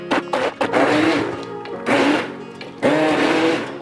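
A handheld stick blender mashes fresh strawberries for jam in three loud whirring bursts, each revving up then dropping, with short pauses between.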